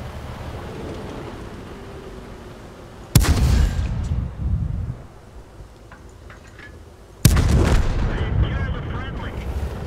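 Two booming tank cannon shots in the World of Tanks video game, a few seconds apart, each a sharp loud crack followed by a rumbling tail, with game ambience and talking in between.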